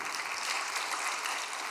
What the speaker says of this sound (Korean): 우리 박수 한번 올려드립시다